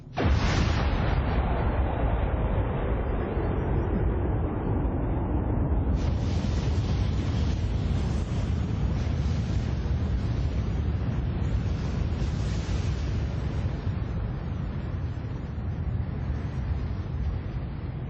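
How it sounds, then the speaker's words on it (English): A Big Bang explosion sound effect: a loud sudden blast that rolls into a long, deep, sustained rumble, swelling again partway through and staying heavy to the end with no voices. "This is the moment it all started,"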